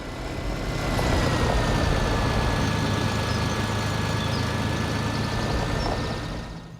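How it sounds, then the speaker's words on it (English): Tractor pulling a plow in Farming Simulator 2013, a steady low engine drone that swells in and holds evenly, with no voices over it. "Line up your tractor better"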